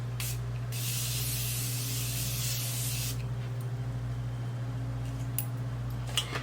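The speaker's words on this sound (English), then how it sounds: "I'm gonna use a setting spray." Makeup setting spray hisses from a pump bottle, a brief spritz followed by one long, steady, close spray lasting a few seconds, then quiet room hum with faint clicks.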